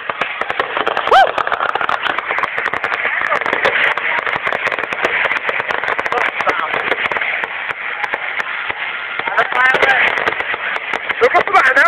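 Fireworks on bonfire night crackle and pop densely and without a break, with many small bangs layered together. The sound is loud and somewhat muffled, and voices are faintly audible underneath.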